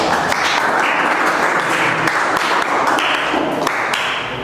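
Students applaud in a classroom: dense, steady clapping that fills the room for a few seconds, close and fairly loud, with little talk over it.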